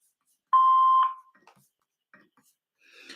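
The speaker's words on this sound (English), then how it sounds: "Please leave your name and phone number after the beep" A single answering machine beep before a message is left, a clear steady electronic tone lasting about half a second, followed by faint scattered noises and a brief rustle.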